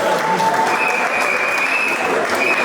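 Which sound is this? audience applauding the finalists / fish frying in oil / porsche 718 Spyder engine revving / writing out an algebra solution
audience applauding the finalists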